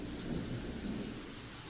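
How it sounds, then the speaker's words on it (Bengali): Steady heavy rain during a thunderstorm, a continuous even hiss of falling water with low rumbling underneath, fairly faint and unbroken. "দেখেছেন কিরম মেঘ ডাকছে"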